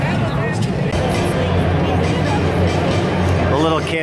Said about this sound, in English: the crowd is not happy about it